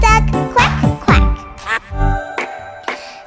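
Cartoonish duck quacks repeat in a bouncy children's song, mixed with jingling music and high sung or voiced phrases, loud and upfront.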